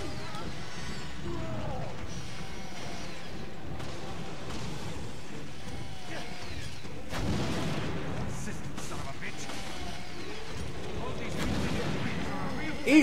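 Rocket fire and explosions in the video game Resident Evil Revelations, heard as a steady, dense rumble of booms and blasts with a couple of louder swells, mixed with faint voices.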